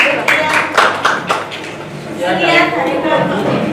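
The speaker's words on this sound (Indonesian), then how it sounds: "Terima kasih tepuk tangan" Classroom applause after student presentations, a broad wash of many hands clapping at close range with voices mixed in throughout.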